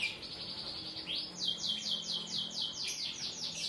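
A canary sings in fast, bright chirping trills with repeated sweeping notes, close and clear against a faint background hiss, with no voices.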